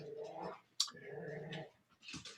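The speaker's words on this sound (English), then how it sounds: "my puppies are getting a little bit loud" Puppies bark and growl in short, sharp bursts, with one louder yelp standing out, faint and somewhat distant in a barn setting during a gathering.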